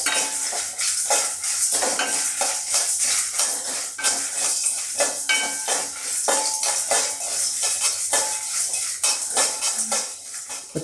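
Star anise, kalpasi and marathi moggu dry-roasting in a pan for a Chettinad chicken gravy, with a spoon scraping and clattering steadily against the metal over a faint sizzle, close and loud with no voices.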